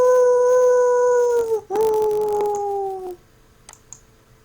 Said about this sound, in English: I could hear the sound of howls behind me.